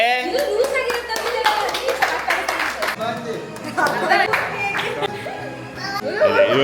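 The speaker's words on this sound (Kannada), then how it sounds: "ಚಪ್ಪಾಳೆ." Several people clap in rapid uneven bursts at a family birthday surprise, close by, mixed with excited chatter and voices throughout.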